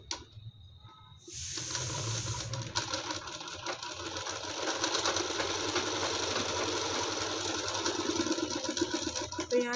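Sewing machine stitching around the neck of a blouse: a steady, close mechanical whirr and rapid needle chatter starts after a brief quiet moment and runs continuously to the end.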